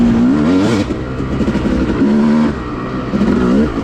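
A Yamaha YZ250 two-stroke dirt bike on a woods trail at Enoree OHV area, its engine loud and close, rising and falling through rapid throttle revs with a raspy buzzing tone, no voices.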